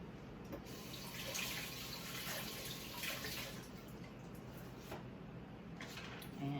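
Fresh garden rosemary is rinsed under a running kitchen tap, a steady, soft stream of splashing water that continues without a break, with a few faint rustles.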